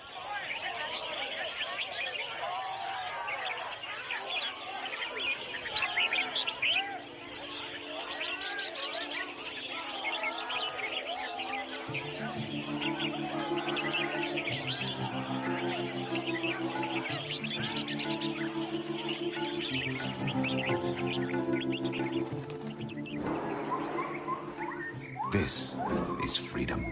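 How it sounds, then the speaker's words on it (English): Captured exotic birds sing at a bird singing competition in Thailand, with chirps and whistles scattered over a busy hubbub of crowd chatter and a steady tonal hum. "people have gathered to sell exotic birds, illegally captured in the rainforest, sold for the highest bid, and here participating in a bird singing competition"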